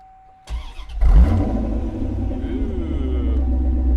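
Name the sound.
1996 Chevrolet Corvette engine starting through side pipes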